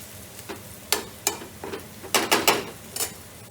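Onions frying and caramelizing in a pan for a vegan chickpea curry, a soft steady sizzle broken by sharp scraping and stirring strokes of a utensil against the pan, close and fairly loud.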